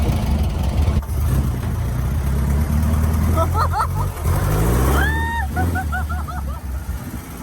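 An abandoned Bugatti replica car drives with a low, steady engine rumble that swells slightly, while people talk and exclaim excitedly over it.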